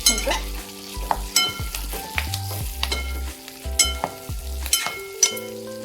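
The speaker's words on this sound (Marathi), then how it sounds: "सर्व मिरच्या टाकून घेते याला खालीवरी करते" Stuffed capsicums frying in oil in a pan with repeated stirring and turning, loud sizzling broken by scraping clatter of the spatula at a steady working pace, no voices.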